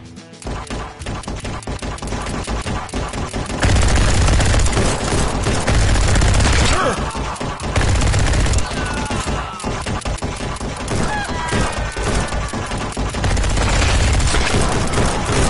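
Automatic gunfire in the VR shooter Bulletproof on PSVR, loud rapid bursts and sustained rattling fusillades with heavy booms, dense and continuous throughout.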